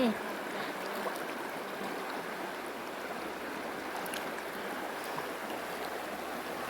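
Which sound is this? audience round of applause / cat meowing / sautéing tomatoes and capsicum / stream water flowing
stream water flowing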